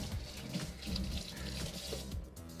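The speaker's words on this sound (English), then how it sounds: "We're going to wash it off in the water" An iPhone 14 Pro Max, earlier soaked in beer, held under a running kitchen tap, with steady splashing water streaming over the phone throughout, loud and close.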